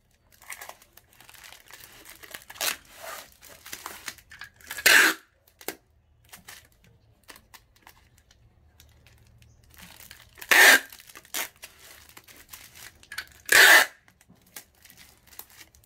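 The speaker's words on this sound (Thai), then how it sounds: "กดกระดาษลงครับติดเทปกาวได้" Paper being pressed down and adhesive tape applied while packing potted plants into a basket under a box lid, with three loud, brief tearing and crinkling bursts set apart by quieter rustling.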